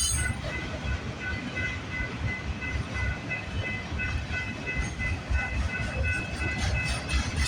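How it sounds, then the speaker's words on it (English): A CN freight train, symbol M394, rumbles steadily past at close range with continuous rail and wheel noise and faint high tonal squeal, no pauses throughout. "Symbol on this CN train is CN M394"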